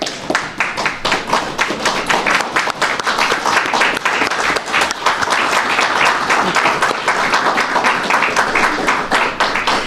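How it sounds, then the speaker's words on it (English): Audience at a housing safety pilot program event giving a huge round of applause, loud dense clapping close to the microphone with rapid individual claps and a few thumps, sustained throughout. "huge round of applause."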